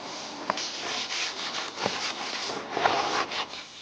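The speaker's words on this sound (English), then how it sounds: "Wipe away that excess material and that loosened dirt with your second clean microfiber towel." A clean microfiber towel wipes loosened polishing dust and dirt off car paint in soft, close rubbing strokes with a few sharper swipes, no voices.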